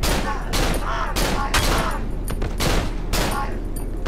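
Pistol and other gunfire in the horror video game Cry of Fear sounds in loud, closely spaced shots over a dense, noisy game background, with a voice faintly mixed in.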